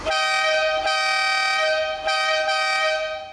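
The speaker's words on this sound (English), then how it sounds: "now you honk the horn and it sounds like this." A Bentley Turbo R's second horn, a country horn, sounds nearby, loud and sustained with a brassy, train-like tone, in a few long blasts separated by brief dips.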